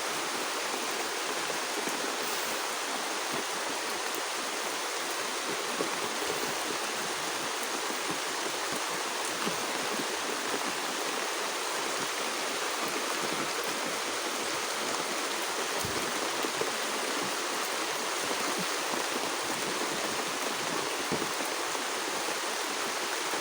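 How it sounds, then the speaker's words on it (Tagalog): Heavy rain falling outdoors, a dense, steady, hissing wash of downpour that continues evenly throughout with no pauses. "Ayun, malakas-lakas pa yung ulan mga kaidol."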